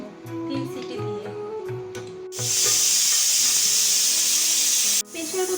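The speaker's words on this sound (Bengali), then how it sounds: "প্রেসার কুকারে 3টে সিটি হয়ে গেছে" A pressure cooker boiling dal lets out a loud, steady hissing whistle for nearly three seconds, then cuts off sharply. Before it, someone talks briefly.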